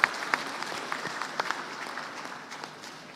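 Clapping breaks out in a West Java provincial legislature (DPRD) plenary session held for the swearing-in of members, with sharp individual claps at first that thin out and fade over a few seconds, no talk.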